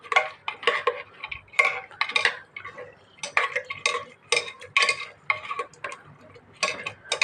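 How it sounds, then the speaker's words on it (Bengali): A spoon scrapes and clatters against a pan while stirring a spiced beef and chana dal kebab mixture, in irregular bursts of metallic clinks and scrapes close by, separated by short pauses. "এখন একটু নাড়াচাড়া করে নেব"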